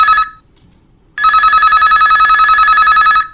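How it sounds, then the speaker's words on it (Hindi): A telephone rings loud and close during a Chhattisgarhi folk-song request phone-in radio program, a brief ring burst, a short pause, then a long continuous electronic trill, with no voices over it. "हम फोन कॉल शामिल करे।"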